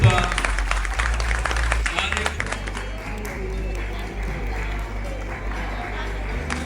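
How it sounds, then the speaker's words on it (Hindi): Audience applause at an arts and culture award ceremony, a broad sustained clatter of clapping from a crowd mixed with a low steady hum, continuing without a break throughout. "Give a big round of applause everybody."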